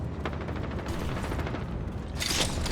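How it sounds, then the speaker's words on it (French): Rapid gunfire from a first-person shooter game strikes the player, a dense crackling barrage of repeated shots running throughout with a bright burst near the end. "Je me fais tirer dessus."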